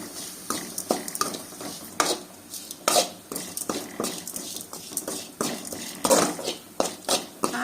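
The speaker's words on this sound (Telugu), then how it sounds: "కొంచెం మంట తక్కువ పెట్టుకొని వేయించుకుందాము." Chilli powder frying on a low flame, a faint sizzle under repeated scraping and tapping of a spoon against the pan.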